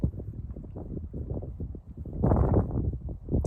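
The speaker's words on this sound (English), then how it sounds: "it's quite windy" Gusty wind buffets the microphone in uneven low rushes, swelling louder toward the end, with no talking.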